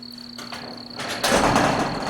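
A sliding door is pulled and pushed back, giving a rising scraping rumble that swells loudly after a quieter start, with a faint steady insect-like whine in the background.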